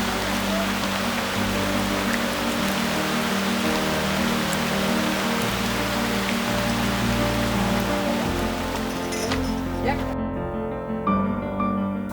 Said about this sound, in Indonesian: Jadi kalau hujan seperti ini, terpaksa kegiatan dihentikan